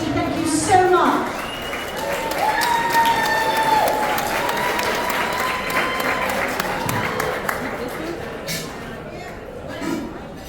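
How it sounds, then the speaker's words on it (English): Gala audience at the Jonathan Club applauds in a dense, sustained wash of clapping, with people talking over it and crowd murmur underneath. "Please, round of applause for all your generosity."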